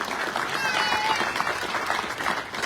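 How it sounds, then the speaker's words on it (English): Steady applause from the audience at a police recruit passing-out ceremony, a dense continuous patter of many hands at moderate volume throughout. "A round of applause, please"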